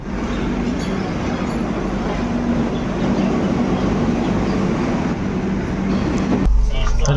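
Mandovi Express train 10103 at Panvel station, Mumbai to Madgaon route: a steady, loud low rumble of the train and station throughout, with voices mixed in and a brief change in the rumble near the end.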